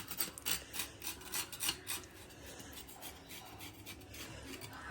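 Scraping the scaly skin off a pearlspot-type fish being prepared for a coconut curry, a steady close rasping with repeated strokes, louder bursts early then softer continuous scraping.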